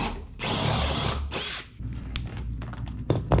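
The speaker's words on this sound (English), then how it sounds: "Drill it from the bottom to deburr it." A power drill whirs loudly in two short bursts, drilling from the bottom to deburr a hole, then gives way to light clicks and handling noises.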